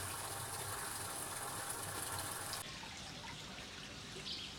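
Clay-laden borehole water pours steadily into a garden fish pond, a continuous broadband rush of running water that drops slightly in level partway through and keeps flowing evenly.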